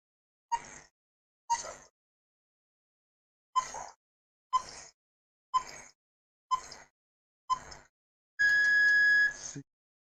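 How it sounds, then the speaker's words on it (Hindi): A quiz countdown timer for a railway exam reasoning practice test beeps seven times in an even rhythm, short electronic bleeps spaced about a second apart, ending in a longer, louder buzzer tone. "टाइमर स्टार्ट कर दिया हमने, जल्दी से बता दीजिए इस क्वेश्चन का आंसर क्या होगा"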